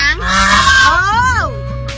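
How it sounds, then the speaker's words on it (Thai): An angry goose at Safari World in Kanchanaburi honks loudly and close up in one long, rising and falling call, with faint human voices in the background. "เพิ่งเคยเจอห่านร้องเรียกแล้วก็โมโหขนาดนี้อ่ะ"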